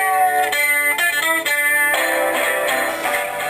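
A passage from a psychedelic rock opera plays loudly: layered band instruments with shifting chords, full and dense, with no talking over it.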